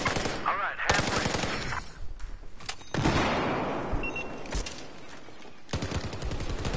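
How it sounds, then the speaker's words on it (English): Heavy automatic gunfire in a video game battle, with dense bursts and loud blasts crowding the soundscape while a voice talks at points over the shooting. "Heavy fire."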